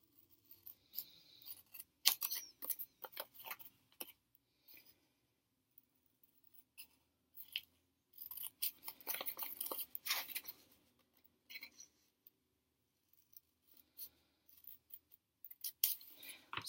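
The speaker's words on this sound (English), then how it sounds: "Good pair of scissors, nice and sharp." Sharp scissors snip through paper for a paper bow craft, with quiet intermittent bursts of crisp cutting and crunching separated by near-silent pauses.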